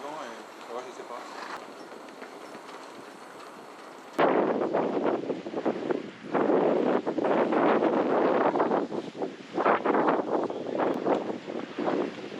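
Wind buffets the microphone in loud gusty rushes at a wingfoiling spot, starting softer then roaring harder, with a voice speaking underneath.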